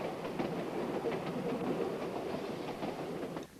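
A Ffestiniog Railway train running, a loud, steady rumble with rhythmic clickety-clack of wheels on rails, heard alone without voices, cutting off abruptly near the end.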